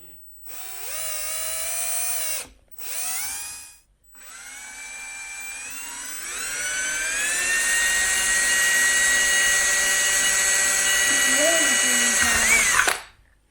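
Power drill boring a hole to fit a phone mount in a Toyota Tacoma, whining in short bursts and then in a long, rising, high-pitched run that stops abruptly, close and loud.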